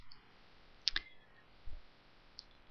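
A single keyboard Enter key press while working in an Excel spreadsheet, one sharp close click with a small second tick just after, then quiet room hiss.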